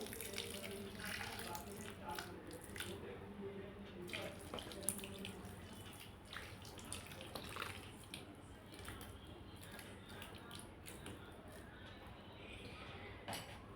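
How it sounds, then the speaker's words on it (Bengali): Water poured onto newly planted plants makes a continuous soft splashing and trickling, faint and close, with a voice talking quietly at times. "একটু একটু জল দিয়ে দিতে হবে ভরপুর মাত্রায় জল দিয়ে দেবো"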